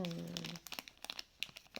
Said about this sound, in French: je suis désolée pour le bruit atroce du scotch.